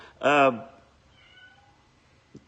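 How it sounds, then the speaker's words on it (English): A single loud, drawn-out cat meow close by, followed by quiet room noise and a faint tap at the end. "Cat's crying over there now."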